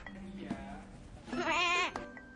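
A little lamb gives one short, wavering bleat. It is fairly loud and clear against a quiet background with faint tones.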